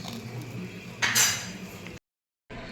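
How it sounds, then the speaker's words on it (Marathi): A homemade cheese pizza on a readymade base being cut, with a cutter or knife scraping and clinking against the pan in a short, close, brighter burst over steady kitchen noise, then a brief silence. "आता मी ह्याला कट करून घेत आहे।"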